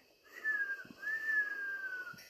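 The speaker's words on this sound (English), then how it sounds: "Can I even whistle?" A person whistles two short, slightly wavering notes close to the mic in a quiet room, soft and breathy, followed by a faint knock.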